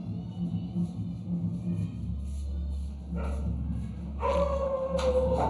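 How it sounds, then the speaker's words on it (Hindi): A nearby dog yelps and barks in bursts over a steady low rumble and background noise from a wedding celebration next door, the calls growing louder toward the end. "तो ये कुत्ता क्यों भौंक रहा है?"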